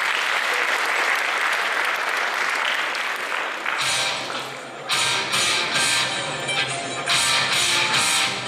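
A hall audience gives loud, sustained applause after sports results are announced at a student event. It starts as a dense wash, then breaks into bursts of rhythmic clapping.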